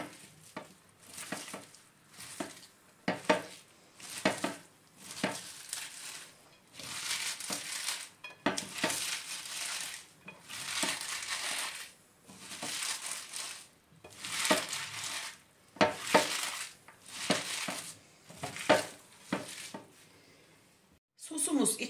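Shredded white cabbage and green apple, with salt and a spoon of vinegar, being rubbed and tossed by hand in a bowl, giving repeated moist crunching and rustling squeezes in steady bursts, close and alone.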